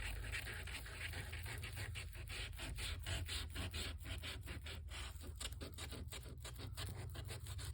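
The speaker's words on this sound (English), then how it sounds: "If you haven't tried these little sanding discs, they are wonderful." Steady abrasive sanding of wood with a small sanding disc, a continuous gritty rasp with a faint pulsing rhythm, close and fairly loud throughout with no talking.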